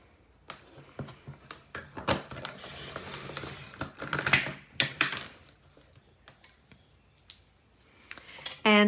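Scissors snipping thin paper strips, a series of short, crisp cuts with irregular pauses and rustling between them, close and fairly quiet, with a faster burst of snips at the end.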